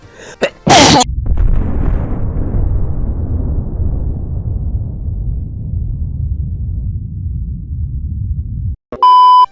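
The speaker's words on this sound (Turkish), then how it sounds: "Ben bir hapşırayım." One loud, close sneeze bursts out near the start, followed by a long, low rumble that slowly fades away, then a short electronic beep at the end.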